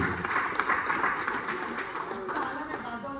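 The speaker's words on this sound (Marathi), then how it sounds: "एकदा टाळ्या होत्या त्याच्यासाठी" An audience at a college get-together claps for Dhiraj, a dense, steady patter of applause from a crowd, close and continuous throughout.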